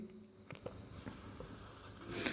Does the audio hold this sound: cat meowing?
no